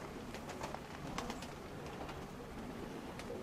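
Pigeons coo in the open air, soft and somewhat distant, under a steady wash of wind-like background noise.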